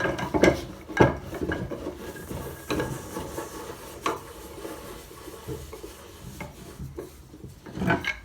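Screws are worked loose while a wooden tail vise is taken apart on a woodworking bench, producing scattered close wooden knocks, scrapes and rubbing clatters at irregular intervals, with a few sharper thumps.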